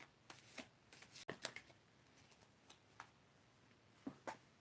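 Tarot cards shuffled by hand during a psychic reading, soft papery riffles and taps arriving in irregular bursts, faint and close, with no talking.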